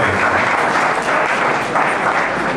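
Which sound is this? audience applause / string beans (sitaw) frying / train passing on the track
audience applause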